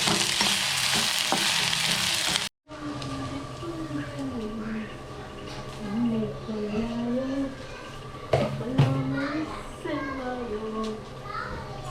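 Okra frying in a pan during a Tamil home cooking session, a steady sizzle with stirring scrapes running underneath people chatting and laughing nearby.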